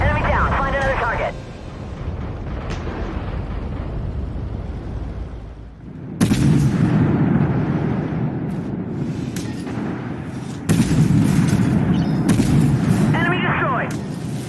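In the Armored Warfare video game, an Italian B1 Centauro tank destroyer fires its gun in two heavy, loud booms several seconds apart, each followed by a rumbling tail. Radio-style voices speak in between.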